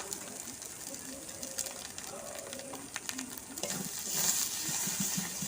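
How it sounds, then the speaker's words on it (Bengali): Spiced masala for a chicken liver, gizzard and feet curry fries in oil in a pan while being stirred steadily, a soft continuous sizzle with scraping stirs growing a little louder toward the end. "আমি নাড়তেই থাকবো, নেড়ে নেড়ে মশলাটা ভালো করে ভেজে নেব"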